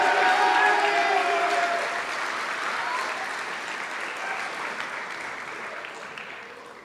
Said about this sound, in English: Let's thank them and applaud them.